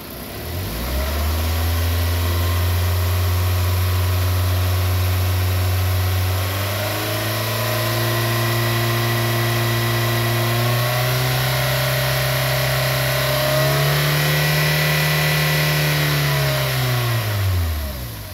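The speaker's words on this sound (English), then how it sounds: "So I'm going to go ahead and give it some RPM." A car engine revved to raise RPM for a mass air flow sensor test, loud and close, climbing from idle to a held higher pitch, rising again, then dropping back down at the end.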